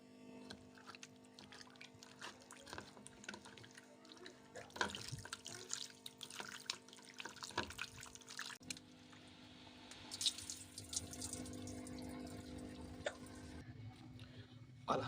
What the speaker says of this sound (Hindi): अब हम सबसे पहले चिकन को धो लेते हैं, अच्छी तरह से साफ़ कर लेते हैं चिकन को।